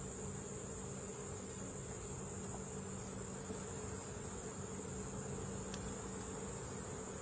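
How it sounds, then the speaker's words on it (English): Honey bees and drones buzz in a dense, continuous drone during a hive inspection, steady and close throughout, with no talk. "Nothing built on this, just a lot of bees, some drones."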